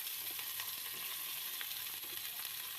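Tomato and potatoes fry in a pan with ginger for a vegetable curry with drumsticks, giving a steady, even sizzle that runs close and unbroken throughout, with no voices.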